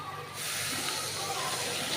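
A hot pan of chicken curry with onions and spices sizzles loudly after water is poured in, a sudden steady hiss that starts near the beginning and keeps going close up without a break.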